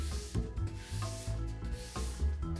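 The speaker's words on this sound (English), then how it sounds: "Use the nylon brush for polishing, and again from the tip to the tail." Nylon brush stroking along a freshly waxed ski base from tip to tail, giving a steady close rubbing and brushing sound in repeated strokes, with no talking.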